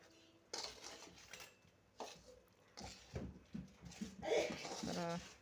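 Utensil scrapes and clinks against a pot as sweet semolina is stirred with grated coconut and cardamom, close and intermittent, with a voice speaking in between.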